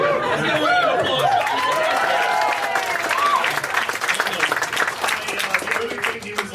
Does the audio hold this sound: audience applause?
yes